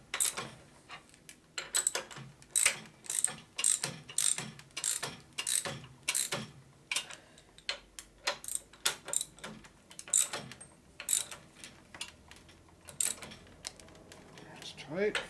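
Ratchet wrench tightening bolts on a CI stroker big-bore Harley Shovelhead motor build, steady runs of close, crisp pawl clicks in repeated strokes, with brief pauses as each bolt is snugged down.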